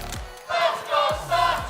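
Crowd at a CRL esports world championship chanting in three rhythmic surges, a loud massed roar rising and falling under a low voice.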